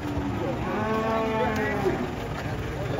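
Thin cattle low and moo as they are unloaded from a truck at a livestock market, steady overlapping calls over constant background noise, with people talking nearby.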